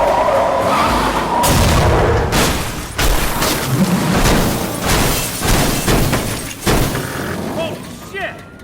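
Car chase cutscene from Battlefield Hardline, a loud continuous mix of revving engine, tire skids and heavy crashing booms with a burst of gunfire-like impacts, dense and close throughout, with voices mixed in.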